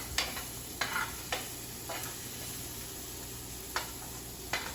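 Crab stir-frying in a pan: a handful of sharp spatula scrapes and clatters land at uneven intervals over a steady, faint sizzle.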